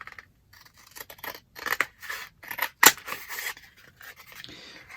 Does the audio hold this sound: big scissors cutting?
yes